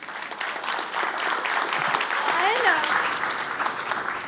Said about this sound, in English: So round of applause for Lindsay.